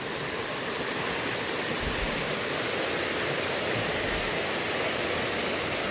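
Rushing stream water beside the rocky Appalachian Trail, a steady broadband roar of flowing water that stays close and loud from start to finish with no talking.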